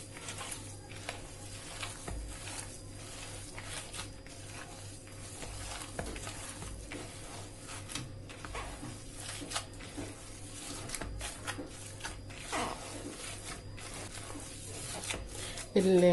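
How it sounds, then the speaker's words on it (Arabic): Minced meat kneaded by hand: wet, squelching squishes and rubbing pulses repeat in an irregular rhythm, moderately close, with faint background noise throughout. "هعجنها بقى بإيديا كويس"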